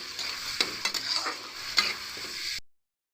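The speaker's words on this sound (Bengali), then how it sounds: "চলুন ভালো করে মশলাটা এবারে কষিয়ে নিই" Spice masala sizzles in oil in a pan while a spoon stirs it in quick scrapes and knocks, close up, with no talking, ending abruptly.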